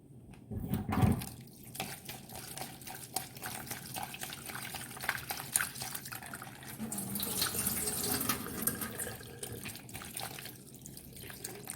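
Tap water runs steadily into a kitchen sink while food is rinsed and rubbed clean, a continuous splashing stream with small drips and handling noises, close and fairly loud throughout.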